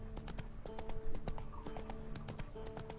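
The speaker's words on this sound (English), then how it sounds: "run fast, Roach, and I'll run you straight into a tree" Roach the horse gallops in The Witcher 3, a rapid, steady clip-clop of hooves with a brief whinny, set over layered game music and ambience.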